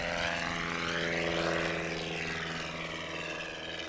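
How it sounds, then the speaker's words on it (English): A Super Cub with a 180 horsepower engine drones past at a STOL competition, its propeller engine loud and sustained, rising slightly and then easing off as it moves away. "And 180 horsepower just sounds great on that airplane."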